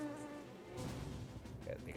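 A soft, high-pitched mosquito buzz hums steadily for a couple of seconds, faint and close, with slight wavering in pitch.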